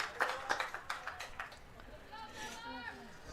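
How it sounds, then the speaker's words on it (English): Home crowd at a college soccer match applauding a substitute, a short burst of scattered claps that fades over a couple of seconds, followed by faint background chatter. "Zoe Blanchard gets a nice hand from the home crowd."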